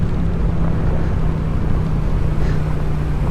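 A Honda big bike engine idles steadily through an MT8 exhaust muffler, giving a continuous loud, low drone close by with no break.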